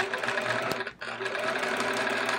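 A sewing machine stitching a quilt while the quilter wears gloves: a steady mechanical whirring hum with a rapid needle rhythm, briefly dipping and stopping near the middle before running on again, close and fairly loud.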